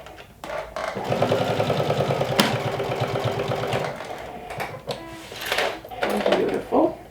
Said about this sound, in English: And this will also top stitch this binding part